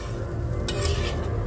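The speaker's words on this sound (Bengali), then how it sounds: "এইবার মশলাটাকে আরো সুন্দর করে কষাবো।" A thick spice paste fries in a pan while being stirred: dense close sizzling with a few quick scraping strokes of the spoon midway.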